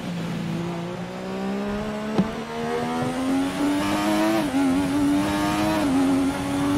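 A 1988 McLaren MP4/4 Formula One car in the F1 2020 racing game at Suzuka, its engine loud and continuous, rising and falling in pitch as it accelerates and shifts, with a brief sharp click partway through.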